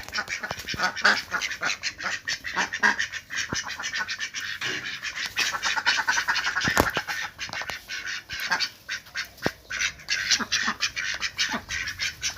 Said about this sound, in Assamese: হাঁহবিলাকক দেখিছেনে মৰম সিহঁতৰ?